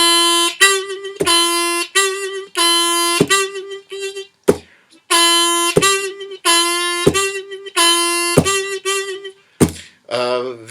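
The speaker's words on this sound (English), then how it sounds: "do it backwards, where you're hitting the bent note first," A blues harmonica hits bent notes first and then releases them, a run of punchy close phrases separated by short pauses and soft thumps, played alone.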